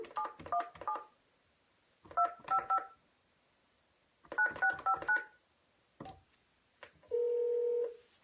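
Touch-tone dialing on a telephone during a sales prospecting call: three quick clusters of keypad beeps separated by pauses, then a steady, sustained call tone near the end.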